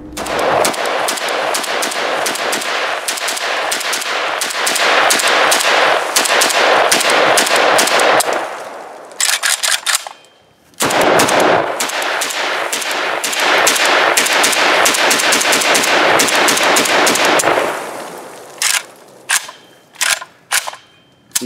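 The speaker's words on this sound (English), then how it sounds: "The muzzle blast is present." Rapid, loud shots from a FEG AMD65 Hungarian semi-automatic sporter carbine, with sharp muzzle blasts fired in two long strings of closely spaced reports, then a few scattered final shots.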